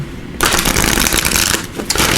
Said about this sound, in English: Let me give these another shuffle here.